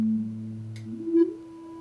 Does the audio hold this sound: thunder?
no